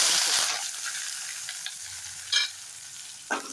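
Chopped onions sizzle in hot oil with mustard seeds, a brief burst of frying at first that settles into a soft hiss, broken by a couple of stirring scrapes.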